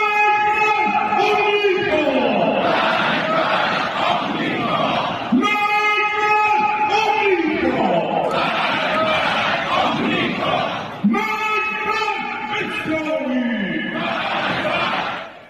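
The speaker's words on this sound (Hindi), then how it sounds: "उनके समर्थन की भीड़ ये आपके सामने है" A large crowd of Khamenei supporters rallies in an Iranian street, chanting loud rhythmic slogans in repeated waves with brief pauses between bursts.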